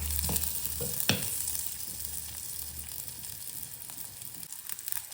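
Shallots and green chili sautéing in a pan for drumstick leaf soup, a steady close crackle and sizzle with a few sharp stirring scrapes near the start, no voices.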